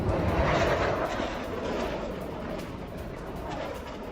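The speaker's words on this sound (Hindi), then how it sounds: "सीमा के आसपास का इलाका है वहां पर F-16 उड़ान भरते हुए दिखाई दिए हैं" F-16 fighter jets flying over a border area, a broad steady roar of jet engines that stays loud and sustained, easing slightly in intensity, with no voices over it.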